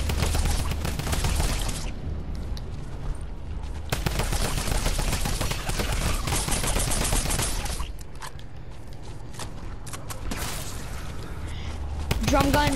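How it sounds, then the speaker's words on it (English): Drum gun in Fortnite firing in long rapid bursts with dense, crackling gunfire and brief pauses between volleys, while players talk over it. "Drum gun is such a good option."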